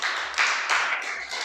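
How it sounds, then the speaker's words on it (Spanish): A church congregation clapping during a Spanish-language sermon, a short, fairly faint burst of hand claps in uneven rhythmic waves. "Dale un aplauso."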